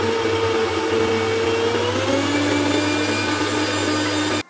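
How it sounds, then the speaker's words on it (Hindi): Kitchen mixer running steadily to churn cream with cold water into butter, a loud continuous motor whir with a low hum, unbroken until it cuts off at the end; no talking. "और इसको चला लेंगे मिक्सर को।"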